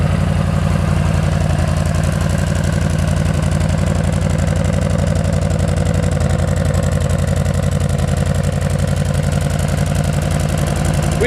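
A 2014 Yamaha V-Star 950 motorcycle engine idles steadily and loudly up close, a constant low rumbling throb with no revving or talk.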